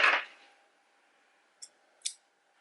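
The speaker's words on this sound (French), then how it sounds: "On va couper le fil." Scissors snip crochet yarn close up: a sharp opening click is followed by two quick, crisp cuts in an otherwise quiet room.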